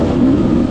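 Off-road race motorcycle engine revving hard on the throttle while climbing a hill, a brief, loud, steady drone close by with no voices.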